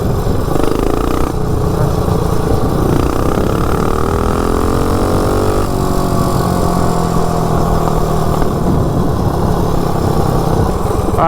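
Small mini bike engine without brakes, running rough while ridden: a loud, close, buzzing single-cylinder drone that rises and falls in pitch as the throttle changes, steady throughout.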